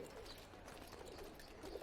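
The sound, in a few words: birds calling in the video game Assassin's Creed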